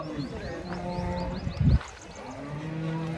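A racing-breed calf moos loudly in the middle, a short deep call, with people talking and other farm sounds around it at a cattle market in Chalisgaon.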